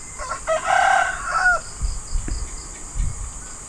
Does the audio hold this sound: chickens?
yes